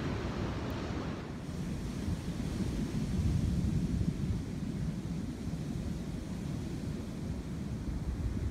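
Ocean surf rolls in a steady, loud wash at a beach, with a constant low rumble and some wind buffeting the microphone.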